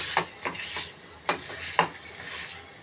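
Dates roasting in a pan for panchakhadya modak, stirred with a spoon in a steady rhythm of scraping strokes over a soft sizzle, with a few sharper clacks against the pan, close and clear.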